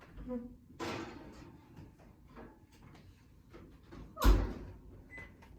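An oven door clunks shut in a home kitchen after cake pans go in, a single loud thud near the end, preceded by smaller handling knocks and rattles while a person talks.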